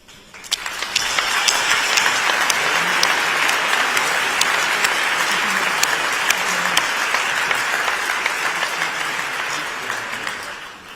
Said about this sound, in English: offer a round of applause to so many global health partners and friends